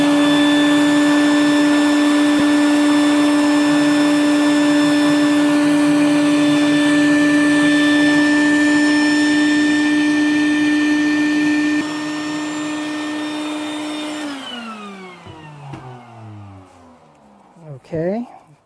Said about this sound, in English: I'm just going to vacuum up any ash that's in here.